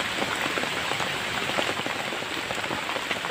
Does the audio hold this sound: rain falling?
yes